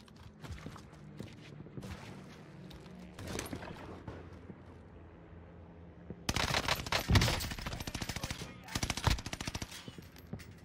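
Gunfire from a Cooper Carbine in a shooter game, scattered shots early on, then a long dense burst of rapid automatic fire in the second half, loud and close, with faint voices underneath.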